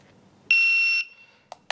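A CED7000PRO shot timer gives a single loud electronic start beep lasting about half a second, followed by two short sharp bursts a moment later.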